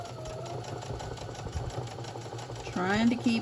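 A sewing machine runs steadily, stitching around the edge of a Santa-themed mug rug quilted craft piece with a back stitch at the start, a continuous mechanical whir under a voice speaking briefly near the end.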